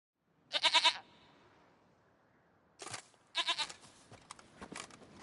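A goat in a video game bleats loudly once, then after a quiet pause bleats twice more in quick succession, followed by softer rustling sounds close by.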